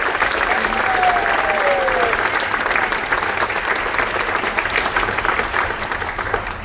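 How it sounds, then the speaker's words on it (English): A crowd aboard the cruise ship Voyager of the Seas applauds first responders, a loud continuous roar of clapping with a whistle rising briefly over it and a voice or two cheering within the din. "Can we please give all of these wonderful first responders a huge round of applause?"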